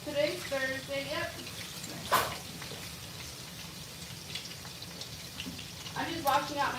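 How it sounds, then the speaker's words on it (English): Tap water running while dishes are washed in a home kitchen, a steady close splashing stream with a brief louder gush, while a person talks intermittently over it. "I'm just washing out my dishes real fast"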